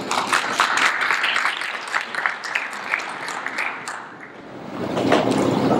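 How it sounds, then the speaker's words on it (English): Conference audience applauding at a blockchain event in the Philippines, a dense, steady wash of clapping that dips briefly near the end before swelling again. "Let's give him a round of applause"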